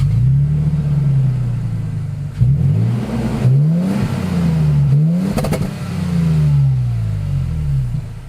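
A lifted 2021 Toyota Tacoma TRD Off-Road revs its engine several times, the exhaust growl rising and falling in repeated loud sweeps, close by, with no talk.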